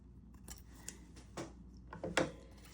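Scissors snip through paper while an altered playing card is trimmed, giving a few soft, close cuts spread across a quiet stretch with no talking.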